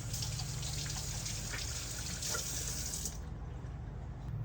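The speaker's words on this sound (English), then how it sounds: "I'm going to wash my hands." Water runs steadily from a kitchen tap as hands are washed under it, a continuous close splashing hiss that cuts off abruptly near the end, leaving quiet room tone.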